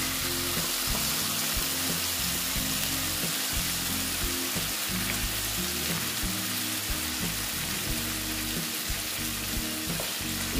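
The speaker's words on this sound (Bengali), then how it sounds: "একটু আবার একটু পোস্তর সঙ্গে কষিয়ে নিচ্ছি" Mixed vegetables are sautéed with ground poppy seed paste in a hot pan, producing a steady, dense sizzle broken by soft stirring scrapes.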